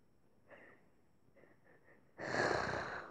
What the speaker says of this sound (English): My other dog is just snoring now.